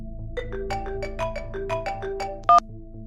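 A telephone ringtone plays a bright, melodic electronic tune of quick repeated notes, close and clear, ending with a sharp louder beep, with no talking.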